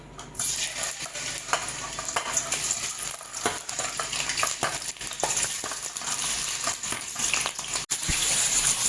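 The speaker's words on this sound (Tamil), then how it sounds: "எண்ணெய் சூடானதும் பன்னீரை போட்டுக்கலாம்." Paneer cubes fry in hot oil with a steady, busy sizzle, while a utensil stirs through them with repeated scraping clicks and clatters close to the pan.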